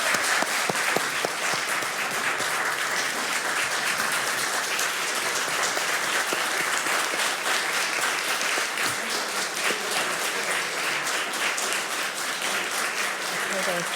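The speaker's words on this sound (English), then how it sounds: "Rounds of applause" Applause fills a courtroom at a judicial confirmation hearing for an appeals court justice, sustained many-handed clapping at a steady level that carries on for well over ten seconds.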